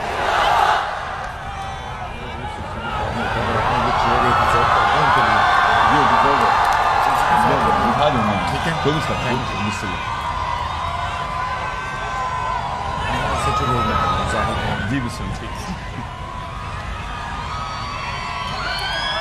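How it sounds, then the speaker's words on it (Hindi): A large crowd at a political rally for Imran Khan at GC University Lahore chants the Pakistan Zindabad slogan and cheers, a loud sustained roar of many voices swelling and falling. "उनके आने पर एक जोरदार पाकिस्तान जिंदाबाद का नारा भी लगाइए"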